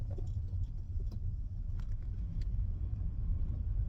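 A cheap used Ford Fiesta with bad brakes runs and pulls away while driving, its engine giving a steady low rumble that carries all the way through with light road noise on top, close and continuous with no talking.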